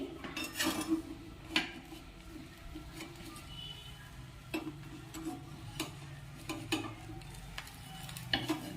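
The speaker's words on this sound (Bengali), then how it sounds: "আগে ধারগুলো চেঁচে নিই।" A spatula scrapes around the edges of an egg dish on an oiled tawa, a quiet run of close scratches and sharp metallic clicks at an uneven pace.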